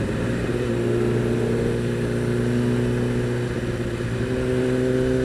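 Kawasaki ZX10R sport bike engine on a test ride, a steady loud drone with layered harmonic hum holding near constant throughout, close and continuous with no talk.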